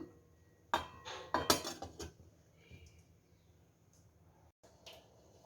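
Metal pot and lid clatter while cooking ragi semiya: a few sharp clinks and knocks in a quick cluster, then quiet with faint later taps, close and alone.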